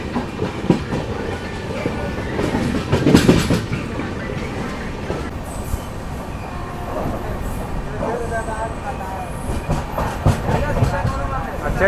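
The Tambaram–Kollam Express runs on the adjacent track near Chennai, a continuous loud rumble with rhythmic clickety-clack and metallic rattles heard from onboard another moving express train, with background noise throughout.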